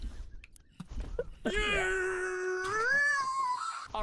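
A cat in a video game lets out a long, drawn-out meow that wavers in pitch. It is clear and fairly close, and comes after a stretch of faint clicks and quiet background sound.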